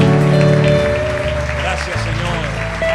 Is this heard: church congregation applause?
yes